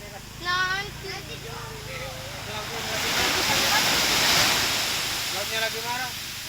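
Rough surf breaking on the shore at Pantai Gading Jempong beach in Lombok, a broad steady roar that swells louder midway, with people talking and calling out over it throughout.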